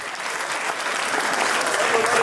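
Audience clapping and cheering at a live stage show, a dense, loud wash of applause that swells slightly over a couple of seconds with no voice on top.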